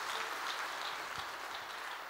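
Steady applause from a church congregation fills the space, an even, dense wash of clapping with no pauses, close and continuous throughout.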